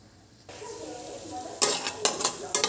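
Sabudana khichdi ingredients hit hot tempering in a pan with a soft sizzle, then a spoon stirs and scrapes in several quick bursts, close and moderately loud.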